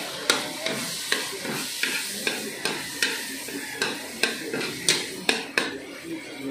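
Garlic sizzles steadily in a hot pan while a utensil stirs it, leaving a regular series of sharp scrapes and clinks against the metal over continuous frying noise, with no voices.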